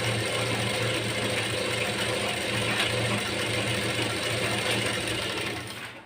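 A sewing machine stitching a blouse lining to its fabric runs with a steady, continuous whirring hum at an even pace for several seconds, close by, tapering off at the end, with no talking.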